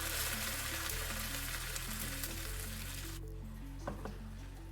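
Curry leaves dropped into hot oil with onion and chilli for a dal spinach curry sizzle and crackle in a steady, close hiss with no one talking.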